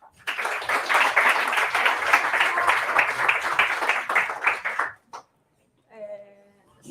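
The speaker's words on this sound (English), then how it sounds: "So please welcome Julia with an applause" Audience applause welcoming a speaker at a Pint of Science talk in Oslo, a dense burst of clapping from a crowd lasting about five seconds and then cutting off, followed by brief talk.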